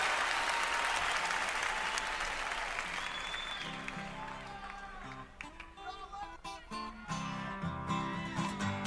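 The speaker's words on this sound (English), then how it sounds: "Crowd goes wild." A live concert crowd claps and cheers in a dense, sustained wash of applause that gradually thins, with band instruments and a voice emerging underneath as it fades.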